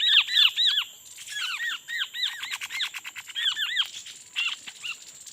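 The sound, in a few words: caught Tepus birds squeaking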